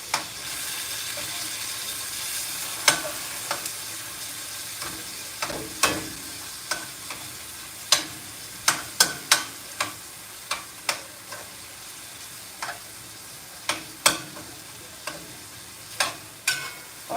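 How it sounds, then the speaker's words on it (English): A spoon breaks up canned beef in a cooking pan for yellow rice, giving a steady run of sharp metallic clicks and scrapes against the pan over a constant low background hiss, close and fairly clear, with no talking. "with a spoon, I'm going to just cut it up"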